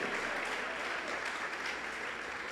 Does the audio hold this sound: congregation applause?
yes